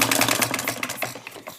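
A running model hit-and-miss engine with a wobbling cylinder and connecting rod on a wrist pin, giving rapid, close mechanical clatter and ticking that fades slightly toward the end.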